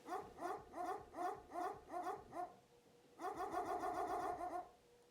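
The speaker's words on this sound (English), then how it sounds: "Every time I click, dog barks" A recorded dog-bark sound file plays back each time it is clicked: a fast run of five rhythmic barks, a brief pause, then a denser burst of rapid overlapping barks when it restarts, moderately loud and clean.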